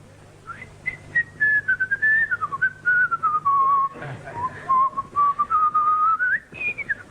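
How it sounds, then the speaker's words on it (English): A person whistles a wavering melody alone, clear and close, with short breaths breaking up the phrases. "By whistling a highly skilled, mysterious secret tune."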